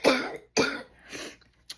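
A person who is feeling unwell gives two harsh, close coughs followed by a softer, throat-clearing rasp and a brief final catch.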